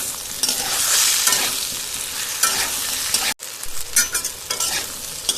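Turmeric, chili powder and ginger paste fry in a pan for a fish and elephant-foot-yam curry, giving a steady close sizzle with stirring scrapes and a brief cut of silence partway through.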